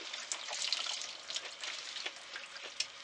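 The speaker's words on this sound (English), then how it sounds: "I'll rinse it with some water" Salted kimchi cabbage being rinsed with water, a soft continuous splashing and trickling with small drips and splats, close and fairly quiet, with no talking.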